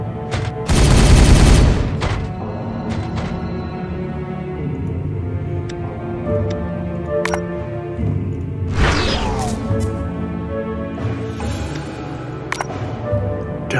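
Rapid bursts of gunfire from the video game Regicide, a dense loud volley up front followed by scattered shots and impacts in a busy battle mix.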